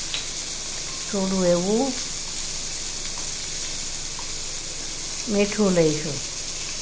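Radish and chili sauté with turmeric and salt in a pan, giving a steady, soft sizzle throughout while a person speaks briefly twice over it.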